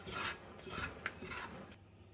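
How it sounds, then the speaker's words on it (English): A dough scraper rasps over the floured edges of sourdough pizza dough in steady, close strokes, a dry scraping rub repeated several times with no talk. "Use the scraper, scrape off all the flour on the edges."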